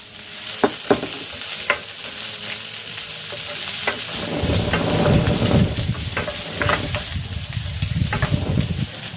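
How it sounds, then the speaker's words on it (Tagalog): Garlic and onion sautéing in a pan for milkfish with salted egg in coconut milk: a close, steady sizzle that swells partway through, punctuated by sharp spatula clicks and scrapes, with no voices. "Ayan, igisa ko na rin dito itong sibuyas."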